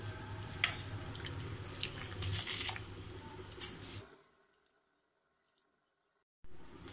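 Water boiling in a stovetop pot while cooking Hyderabadi chicken dum biryani, a soft, bubbling, splashy simmer heard up close for about four seconds before falling silent, then a brief return of sound at the end.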